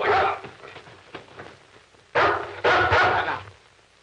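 A dog in a 1940s television crime drama gives a few sharp, loud barks close by, in short bursts with brief gaps and quieter sounds between.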